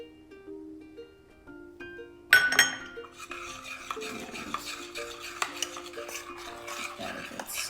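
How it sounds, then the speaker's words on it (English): Cacao powder being stirred into a chocolate mixture in a bowl for chocolate peanut butter bark: a run of close scraping, clinking spoon strokes against the bowl, starting abruptly after a quiet stretch with faint tonal background music. "See, I would stir it till you get most of the lumps out."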